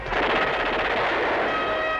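Rifle gunfire from the action film Robo Vampire, a loud, dense rattle of rapid shots that runs on without a break for the whole moment.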